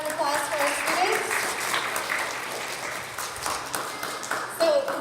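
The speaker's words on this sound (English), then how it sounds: "One more round of applause for our students." School audience applauding students at an evening showcase event, a steady wash of clapping running throughout under a lively room with voices mixed in.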